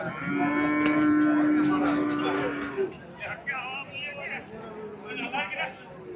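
Kangayam breed cattle low and moo at a crowded cattle market, one long drawn-out moo up close followed by more distant calls, with people talking over them.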